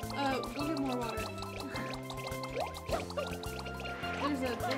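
A water tank refills in the Super Mario Sunshine video game, a bubbling, glugging liquid fill sound that runs steadily under bright, busy game music.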